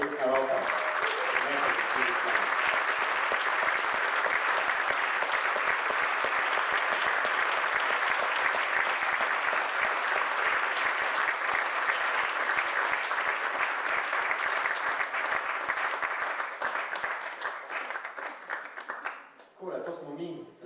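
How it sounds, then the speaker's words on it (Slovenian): A festival concert audience at Festival AS gives sustained, dense applause. It stays loud and steady for most of the stretch, then thins out and fades near the end as a voice cuts in. "Upam, da boste še enkrat močno zaploskali"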